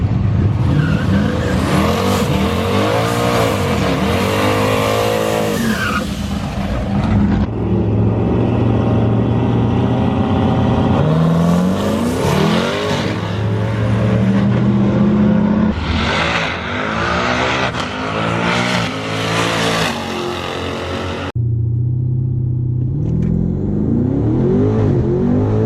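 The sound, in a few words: twin turbo Camaro ZL1 accelerating 0-100 mph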